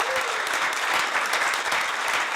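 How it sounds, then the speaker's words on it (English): Audience applause fills a city council chamber during a recognition of the wastewater treatment plant operator of the year, a steady dense clapping that carries on without a break and with no talking over it. "Let's give him a round of applause."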